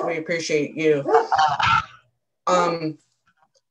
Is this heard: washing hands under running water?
no